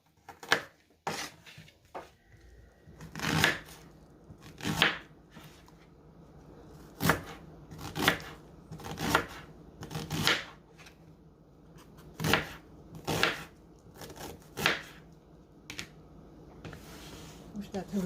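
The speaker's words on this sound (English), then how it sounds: "Now I've got this white onion that's already been partially used. I'll cut that up." A knife chops through a partially used white onion in a home kitchen, giving a string of sharp, irregular cuts that land in small clusters over about eighteen seconds while a person talks in between.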